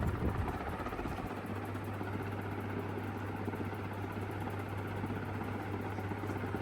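TAT 1200mm industrial ceiling fan running on high speed, a steady low motor hum with a whooshing air rush, continuous and moderately loud.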